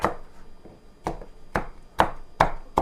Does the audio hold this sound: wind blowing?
no